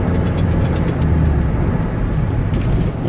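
A 1999 Dodge Caravan LE wheelchair mobility van drives with its engine running steadily under light throttle, a broad continuous low rumble and road roar, loud and close, with no voices.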